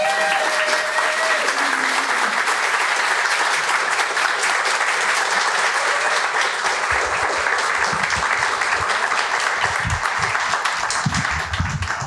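A live storytelling audience applauds a storyteller, producing a dense, steady wash of many hands clapping together that stays loud and even throughout, with a faint low rumble near the end.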